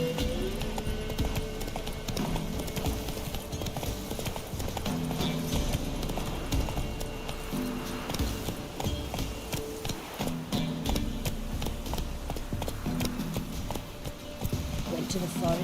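A horse trots with continuous rhythmic clip-clop hoofbeats in the Witcher 3 video game, close and steady under a background music bed, with people talking.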